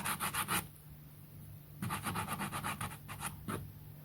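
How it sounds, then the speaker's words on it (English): Sandpaper rubs off overhanging edges of a paper image transfer on a wooden moulding, coming as short bursts of quick back-and-forth rasping strokes separated by pauses, close and fairly loud. "Now I'm just going to sand off the bits that are overhanging."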